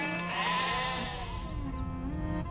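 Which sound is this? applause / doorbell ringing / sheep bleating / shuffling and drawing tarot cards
sheep bleating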